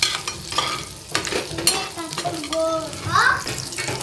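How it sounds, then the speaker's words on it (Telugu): Chopped ingredients fry and sizzle in a pan for chole masala while a spoon stirs them, giving scraping clatters and a steady crackle up close, with faint background voices. "చూడండి ఎంత బాగా ఫ్రై అవుతున్నాయి ఇవి."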